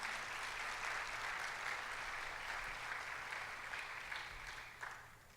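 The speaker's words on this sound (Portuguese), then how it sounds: "Vamos aplaudir o Senhor pela vida deles." A church congregation claps together at a Sunday service, a dense, steady wash of applause from many hands that holds for several seconds and then tapers off, with no talking.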